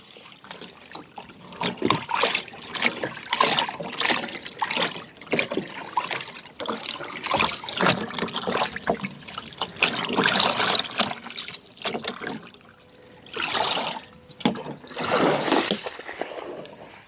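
Water draining out of a cattle trough that has been unhooked from its coupling on a farm paddock: steady splashing and trickling in uneven surges, close and fairly loud, with brief pauses.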